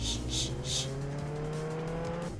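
A car in Roblox Jailbreak drives off with a loud, steady engine tone that rises in pitch as it accelerates, sitting close and continuous with a few quick higher bursts at the start.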